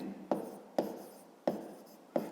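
A pen writes on paper in four short, evenly spaced scratching strokes, close and quiet, with a soft hiss between them and no voices.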